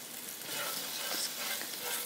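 Finely minced large garlic cloves fry in a pan, giving a soft steady sizzle with faint stirring, quiet and close, with no talk.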